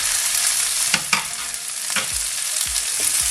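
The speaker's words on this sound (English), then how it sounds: "give it a proper good mix" Okra and fried onion cooking together in a pan, a loud steady sizzle with a few sharp scrapes as the mixture is stirred, no one speaking.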